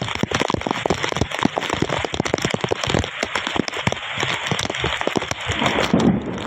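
Pre-monsoon rain pelting a rooftop, a dense, loud patter of close drops with sharp irregular taps throughout, continuous and unbroken with no voices.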